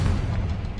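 Confringo blasting spell going off in Hogwarts Legacy: a short, heavy, close explosion rumble, dense and deep, holding at a steady loudness from start to finish without a break.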